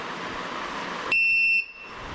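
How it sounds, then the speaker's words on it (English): A smart card reader's buzzer gives a single short, high-pitched electronic beep, about half a second, over faint background hiss, signalling an accepted card. "If the buzzer produces a beep sound, it means that the card has been accepted for identification"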